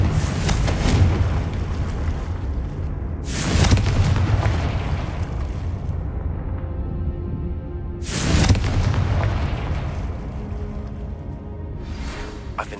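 Hogwarts Legacy's Confringo fire spell blasts three times, each a heavy booming explosion with a long rumbling decay, spaced several seconds apart over a low continuous game ambience.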